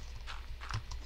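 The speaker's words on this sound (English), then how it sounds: "I gotta spawn for my horse so I can stop worrying about him" A horse's hooves clip-clop in Minecraft, a few quick hoof steps in a short burst, moderately close, with no talk.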